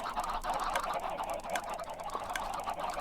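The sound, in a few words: chickens clucking in a video game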